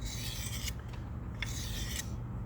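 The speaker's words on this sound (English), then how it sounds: "This is what a knife sharpening sounds like." Steady rasping strokes of a knife blade drawn across a whetstone, repeated in a regular rhythm, close and fairly loud with no talking.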